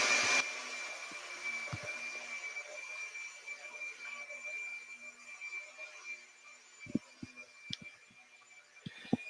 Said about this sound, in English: My brother just turns the fucking vacuum on